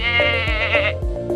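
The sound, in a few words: sheep bleating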